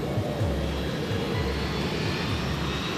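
Boeing 757 jet airliner engines spooling up for a night takeoff, a steady loud roar with a broad hiss and low rumble, continuous throughout.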